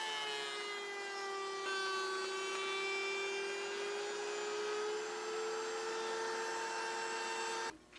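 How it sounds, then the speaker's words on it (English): A router cuts a stopped angled groove in walnut for a floating shelf. A steady, close high-pitched whine holds for about eight seconds, then cuts off abruptly near the end. "I'm going to router this until about 1/4 inch from here, and then I'll stop"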